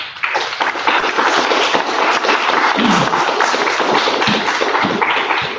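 Sustained applause from a seminar audience, dense and steady clapping that fills the room and holds evenly throughout, with no talking over it.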